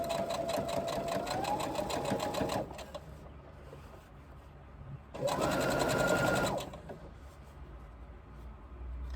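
A sewing machine runs in two bursts of steady rapid stitching while a bag seam is fed through, with a quiet pause between runs and no talk.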